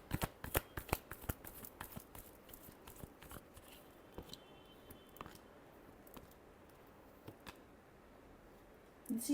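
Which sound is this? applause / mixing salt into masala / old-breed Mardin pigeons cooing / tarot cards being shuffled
tarot cards being shuffled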